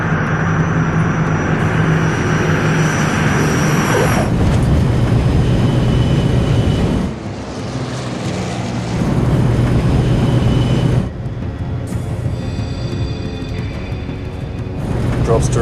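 A jet aircraft, the Falcon 013, touching down, its engines dropping into reverse thrust: a loud, continuous, close roar that shifts in pitch and strength several times as the plane slows.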